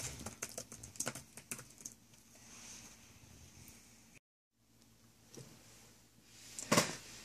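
Quiet typing on a Toshiba Satellite S50 laptop keyboard with soft, shallow key clicks, heard as a run of rapid taps, a brief pause, then a few more keystrokes with one louder clack near the end.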